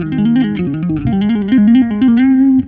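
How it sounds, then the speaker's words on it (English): A bass and guitar play a fast tapped unison line together, busy legato notes running continuously at a steady, loud level with no voices. "What you just heard is a bass and guitar unison using the tapping technique."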